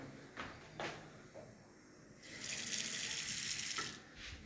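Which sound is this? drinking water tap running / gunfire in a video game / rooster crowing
drinking water tap running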